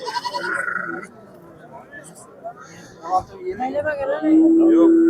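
Goats and kids bleat at a busy sheep and goat market, their cries rising in several bursts over background voices and crowd chatter.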